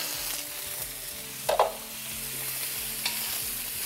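Diced eggplant frying on high heat while being stirred constantly, a soft steady sizzle with a couple of brief scraping clatters from the spoon in the pan, no speech.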